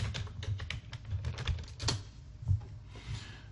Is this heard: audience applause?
no